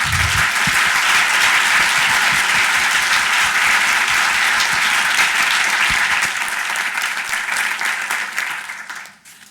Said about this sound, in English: So if we could give them a round of applause, that'd be great